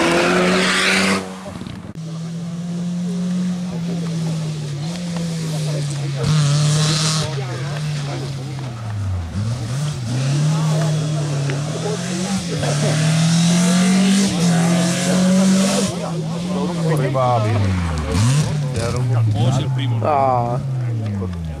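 A race car at a historic revival hillclimb event pulls away from near to far, its engine rising and falling through gear changes with tire squeal, while people talk close by.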